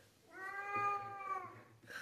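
A cat gives a single drawn-out, tonal meow, fairly quiet and close, in an otherwise calm room.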